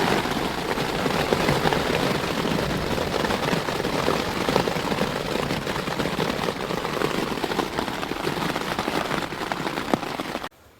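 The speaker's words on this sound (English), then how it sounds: "He's definitely hailing now." Hail falling on a wet morning in Glacier National Park near St. Mary, a dense, steady crackling patter of pellets on surfaces that keeps on without a break and then stops abruptly.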